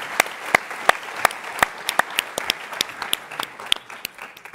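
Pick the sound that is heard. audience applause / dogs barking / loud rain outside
audience applause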